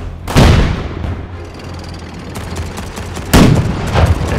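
Bazooka in Road to Valor: World War II, with two loud, close blasts about three seconds apart. Each boom is sharp and heavy, and a softer rumble of battle carries on between them.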